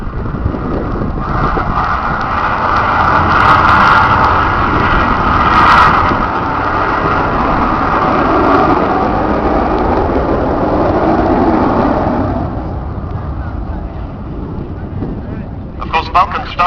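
Rolls-Royce Olympus jet engines on an Avro Vulcan bomber at an air show spool down as power comes off, a loud broad roar that falls and thins. Wind buffets the microphone throughout.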